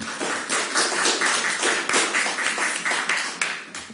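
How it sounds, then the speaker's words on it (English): Audience clapping at a Teignbridge Council public meeting, a steady dense patter of many hands lasting throughout, close and fairly loud with no talk over it. "We don't need clapping either, but thanks."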